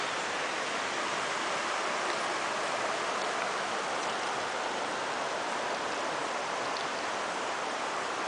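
Water of the Tye River rushes in a steady, unbroken broadband hiss, close and constant throughout with no talk.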